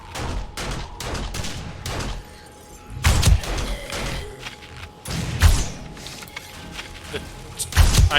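An automatic turret firing at zombies in 7 Days to Die, sporadic bursts of shots with heavy thumping impacts, loud and close, over a steady background hum.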